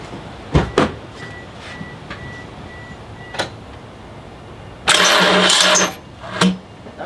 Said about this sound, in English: Now let's see if we can start this car.